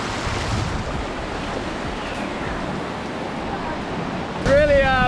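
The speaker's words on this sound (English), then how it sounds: "Really powerful waterfall, just getting coated in spray" A powerful waterfall in Lombok, feeding rice paddies in the valley below, roars up close as a steady, unbroken wash of spray and rushing water. Wind buffets the microphone toward the end.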